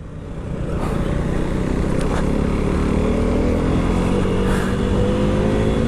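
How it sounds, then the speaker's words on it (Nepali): A motorcycle cruises along an empty road in Kathmandu, its engine holding a steady droning note with wind rush, rising in loudness in the first second and then staying even and close. "रमाइलो भइरहेछ है बाइक चलाउन"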